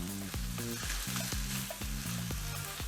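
Bell peppers and carrots stir-frying over high heat, a loud continuous sizzle broken by repeated scraping and stirring strokes in the pan, with no voices.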